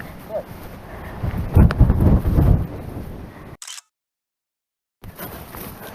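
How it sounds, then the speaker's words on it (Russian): Gusty wind on the Kazakh steppe buffeting the microphone in loud rumbling bursts, cutting out briefly before resuming. "Ой, какой ветер."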